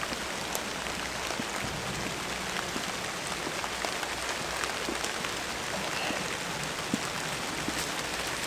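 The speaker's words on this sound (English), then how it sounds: "because it's raining" Steady outdoor rain patters on surfaces in a dense, unbroken hiss that holds at an even level, with no speech.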